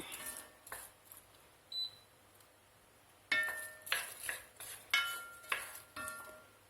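A utensil stirs chicken and vegetables in a pot with light scrapes and clinks: sparse at first, then a run of louder, rhythmic strokes against the metal.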